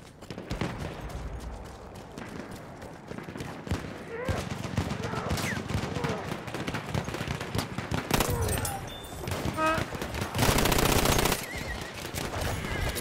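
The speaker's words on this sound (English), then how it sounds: "This is like the closest thing to a Glock 18" An automatic pistol fired in Battlefield 1 on the Nivelle Nights map, heard as dense rapid bursts of gunfire over a steady busy battle din, with loud sustained fire near the end.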